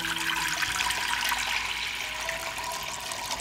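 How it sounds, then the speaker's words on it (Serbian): A litre of water poured into a cooking pot, a continuous bright splashing gush of running water, steady and close, with no talking. "U šerpu ću sipati litar vode."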